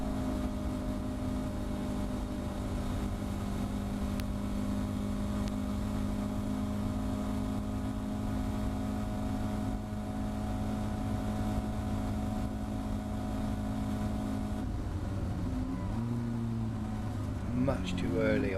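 A Caterham Academy race car engine drones loud and steady at around 108 mph on the Thruxton circuit, then shifts pitch sharply near the end as it brakes and changes down into the chicane.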